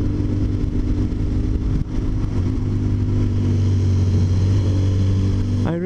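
A motorcycle engine hums loud and steady while riding a secluded mountain road, its pitch rising gradually with speed, with a brief dip near the two-second mark and a quick rise at the very end.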